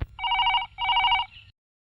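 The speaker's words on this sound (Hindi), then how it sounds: "काशी के घर का फोन रिंग हो रहा" A telephone rings in two long trilling bursts separated by a short pause, clear and fairly close, with no talking.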